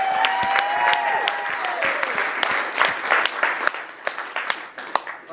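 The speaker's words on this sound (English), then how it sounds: "So a round of applause for Lyd if everyone wants." Wedding guests break into a loud round of applause for the bride, dense clapping filling the room and then thinning into scattered louder claps toward the end.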